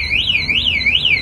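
A bicycle anti-theft alarm going off, a loud close electronic siren that sweeps up and down in a fast repeating wail.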